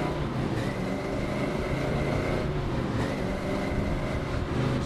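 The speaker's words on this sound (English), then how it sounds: "Nothing funner than shifting gears in a big block." Big-block 1966 Chevrolet Chevelle SS396 running loud and close with a dense, steady engine roar, a rising tone marking a gear change partway through; no talking.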